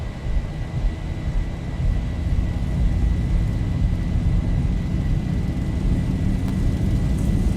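An airliner in the X-Plane 11 flight simulator accelerates down the runway on its takeoff roll, a deep, steady engine roar with a constant whine that swells gradually in a continuous cockpit-heard rumble.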